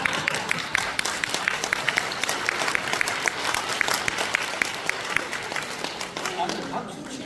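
Audience applause at a Korean political talk event, sustained steady clapping from a room full of people with faint voices mixed underneath.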